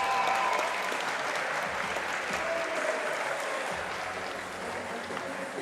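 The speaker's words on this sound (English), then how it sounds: "Another round of applause for the ladies" Sustained applause from the audience at SubKings 17, a women's featherweight grappling event, as a dense, steady wash of clapping that runs the full length without letting up.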